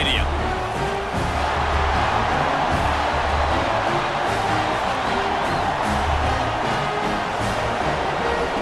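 A dense, steady roar of a large football crowd fills Notre Dame Stadium in South Bend, Indiana, with cheering and whoops spread across the stands and a commentator talking over it.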